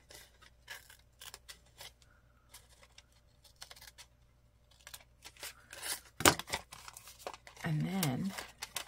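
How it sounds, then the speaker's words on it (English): Scissors snip and crinkle paper in short bursts, close by, with soft rustling and a brief voice breaking in near the end. "Scissors to cut up into that corner."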